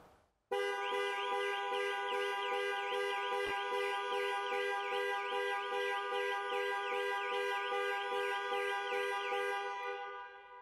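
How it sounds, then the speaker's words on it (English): A Jaguar XE panic alarm sounds the horn in a continuous, warbling tone with a rapid, steady repeating pulse, loud and close, running for about ten seconds before fading slightly. "press 3 times in 3 seconds and the horn will sound and the hazard lights"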